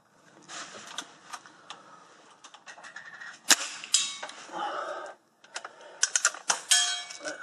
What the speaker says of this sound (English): So now I'm going to take 2 shots at the smaller discs, starting from left to right.